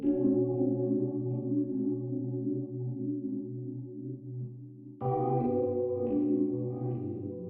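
Lush synth chords hold steadily, thickened by chorus and washed in reverb with trailing echoes, then shift to a brighter chord partway through.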